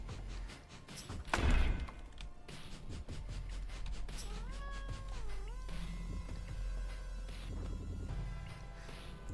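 A cat in the video game Starground meows and caterwauls at close range, with a sliding, wavering call in the middle over a steady game soundtrack, plus a loud thump near the start.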